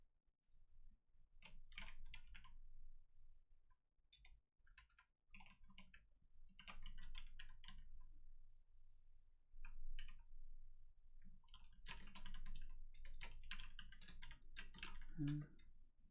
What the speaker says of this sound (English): Just typing here.